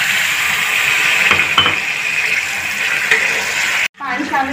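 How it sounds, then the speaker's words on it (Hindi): Halwa mixture being stirred with added water in a pan, a steady close sizzling hiss with faint scraping, cutting off briefly near the end before resuming. "अच्छे से कीजिएगा मिक्स, और थोड़ा सा पानी भी शामिल कर देंगे।"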